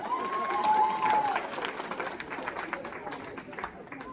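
An audience applauds with moderately loud clapping and some cheering. It is strongest at the start and then thins out, with voices heard through it.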